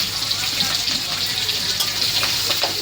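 Onion, nigella seeds and slit green chillies frying in hot oil give a steady, close, bright hiss of sizzling with a few faint pops throughout.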